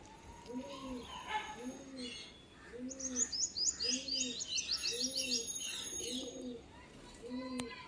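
Domestic pigeons, male and female birds of a fancy breed, coo in a steady repeating rhythm of low, rounded calls, with brighter chirps from other birds overlapping midway and faint background noise throughout.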